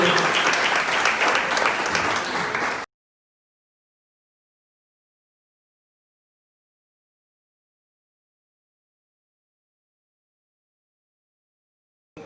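Applause from a gathered audience at a mental health week event, a dense burst of clapping lasting under three seconds that cuts off abruptly into silence.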